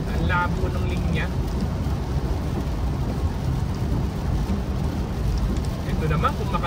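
Heavy rain pours steadily outdoors, a dense, continuous hiss and patter that stays loud throughout, with faint brief voices near the start and end.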